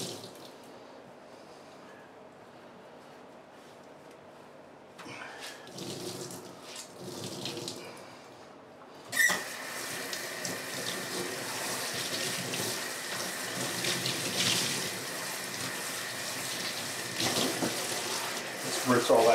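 Tap water running into a sink, rinsing grease and lathe dirt down the drain: quiet at first, then a loud steady gush from about nine seconds on, with a voice talking over it.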